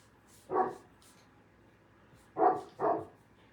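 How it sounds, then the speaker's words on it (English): Big dogs bark outside, three muffled, somewhat distant barks: one alone, then a quick pair, with quiet gaps between. "Can you hear my dogs barking?"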